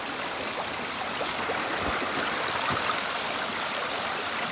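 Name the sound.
creek flowing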